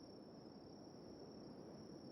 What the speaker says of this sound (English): You hear the crickets?